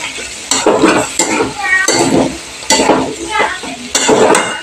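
Spiced masala being sautéed in oil in a pan for pea ghugni, with a loud close sizzle broken into bursts by repeated stirring and scraping of a utensil against the metal.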